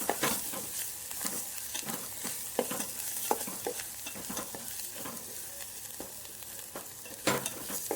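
Tomatoes fry in a tempering for amti dal, a continuous close sizzle broken by repeated sharp scrapes and clacks of a spoon stirring the pan.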